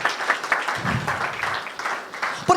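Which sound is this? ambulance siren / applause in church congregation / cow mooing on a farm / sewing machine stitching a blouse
applause in church congregation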